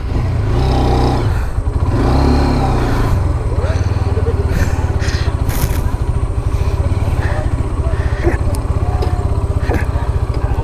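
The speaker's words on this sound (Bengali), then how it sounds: "ট্র্যাকশন হারিয়ে ফেলছে আমার বাইক।" A Hero Xtreme 160R 4V motorcycle losing traction off-road: a loud, continuous engine drone with rough revving, scraping and clattering from the wheels throughout, close to the rider.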